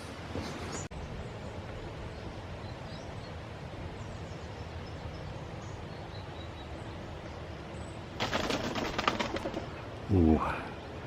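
A bird bursts into flight right beside the listener with a sudden loud flurry of wingbeats, followed by a pigeon's brief cooing, over a steady outdoor background hum.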